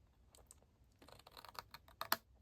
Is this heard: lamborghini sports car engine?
no